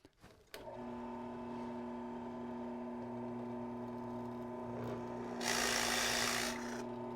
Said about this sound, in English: I'm backing up this board with a scrap piece of pine just because I'm drilling all the way through.